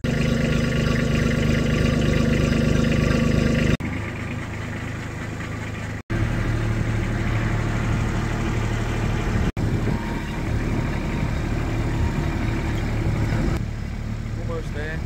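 A tractor engine runs steadily nearby with a low droning hum, briefly cutting out and restarting partway through.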